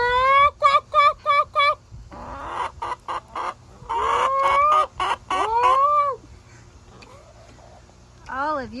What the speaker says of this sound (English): You're the loudest chicken.